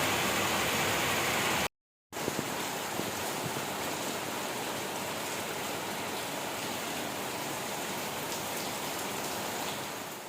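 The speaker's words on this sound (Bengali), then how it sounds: "তো দেখো মুষলধারে বৃষ্টি হচ্ছে" Heavy rain pours in a dense, steady hiss, loud and unbroken apart from a brief cut near the start, with no voices over it.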